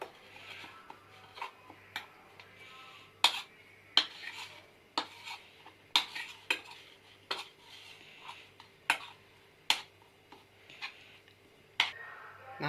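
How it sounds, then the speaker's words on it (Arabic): A spoon clinks against a bowl in irregular, sharp taps while a spice mixture for mackerel is stirred, close and clear over a faint steady background hum, with no talking. "هقلب الخلطه مع بعض."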